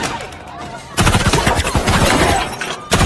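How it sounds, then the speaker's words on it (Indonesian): Rapid bursts of gunfire crackle in a shootout between secret agents and police in a film, starting abruptly after a quieter stretch and continuing loud and dense, with overlapping shots and impacts. "Baku tembak menembak antara agen rahasia Jasper dan Degas dengan tim kepolisian"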